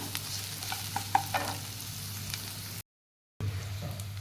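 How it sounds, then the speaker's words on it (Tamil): Onions and ground ridge gourd paste sauté in a pan for chutney, a faint, steady sizzle with a soft stirring scrape, broken by a brief silent gap. "நல்லா மிக்ஸ் பண்ணிக்கங்க வதங்கட்டும்"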